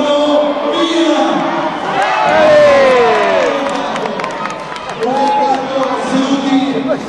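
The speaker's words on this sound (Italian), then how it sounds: "ragazzi hanno bisogno del vostro tifo" Crowd cheering and shouting at a basketball shooting contest during a Christmas party, loud and sustained for several seconds, rising to a peak midway, with voices calling out over the roar.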